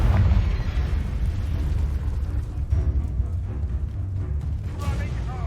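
A Confringo fire spell blasts in Hogwarts Legacy, a dense, rumbling, low explosion roar that stays loud and sustained throughout, with a voice briefly heard over it.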